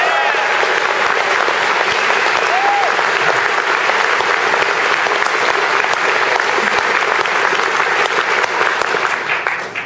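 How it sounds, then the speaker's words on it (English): Dense, sustained applause from a large summit audience fills the whole stretch at steady loudness, a continuous wash of many hands with faint crowd murmur, tapering slightly at the very end. "So big round of applause for that"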